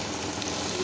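Chopped onion, garlic and green chilli frying in hot oil for a chicken kofta biryani, giving a steady, dense sizzle that holds even and close throughout the short moment, with no talking.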